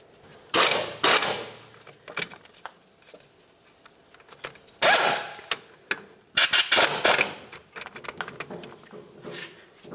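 Ratchet working a strut assembly mounting bolt on a 2006-2012 Toyota RAV4, close and fairly loud, heard as several bursts of rapid clicking separated by quieter pauses and small metallic knocks.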